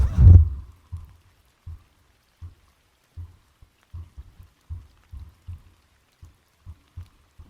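A human heartbeat picked up by a microphone in a quiet whisper-style setting: soft, low thumps at a steady, slightly uneven pace, faint and close, following one louder knock at the start.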